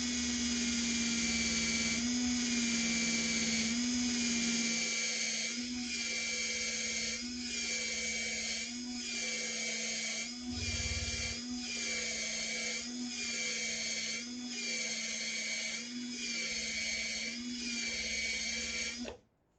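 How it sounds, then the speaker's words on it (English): A drill spins a cylindrical piece as it is shaped, giving a steady, loud, high whine that holds for nearly twenty seconds with slight wavering before cutting off abruptly. "Now we're doing this kind of with our drill, and it's just we want to be able to spin something that's cylindrical."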